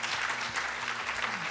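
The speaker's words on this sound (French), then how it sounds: "on va la remercier avec des applaudissements" A live radio show audience applauds with brief, dense, continuous clapping and no voices on top.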